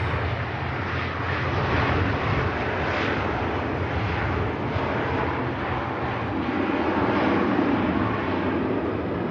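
A TAP Air Portugal airliner at Manchester Airport on a rainy day, a loud, broad jet roar that swells and stays steady for several seconds at fairly close range, with no talk over it.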